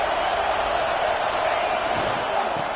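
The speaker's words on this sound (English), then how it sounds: "Listen to this crowd just shaking the girders of this place trying to help their defense." Dense stadium crowd roar at a college football game against UCLA, steady and loud throughout as fans make noise to help their defense, with no clear talk over it.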